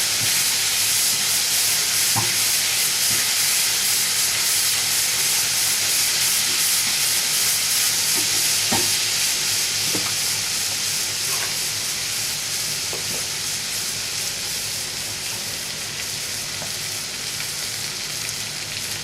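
Garlic fries in a pan before flour is added, a steady loud sizzle and hiss with occasional stirring clinks and scrapes, no voices.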